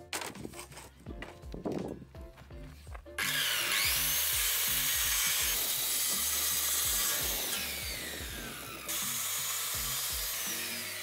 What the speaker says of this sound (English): Let's try the circular saw, which is much more powerful than the jigsaw.